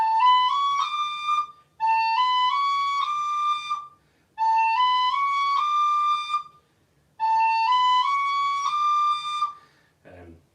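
A tin whistle plays four clear melodic phrases of a tune with short pauses between them, bright and close, with no talk over it.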